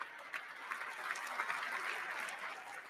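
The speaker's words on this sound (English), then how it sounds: "There's lots of clapping." Distant crowd clapping at a political speech event, a continuous soft wash of many hands, fairly faint and steady throughout.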